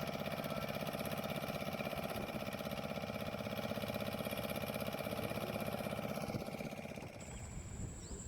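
A fishing boat engine runs steadily at a constant drone, loud and close, with the tone thinning slightly near the end, no voices.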